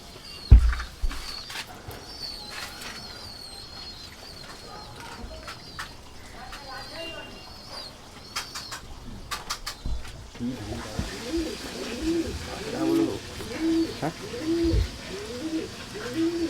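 Madrasi pigeons at a market sale coo in a repeated soft rhythm, close by, with people talking and handling noises around them.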